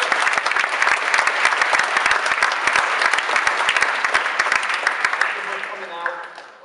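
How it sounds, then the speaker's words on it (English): An audience at a college speaking event in New Jersey applauds loudly and steadily for a speaker, dense clapping filling the room before tapering off near the end, with faint voices underneath. "A warm round of applause."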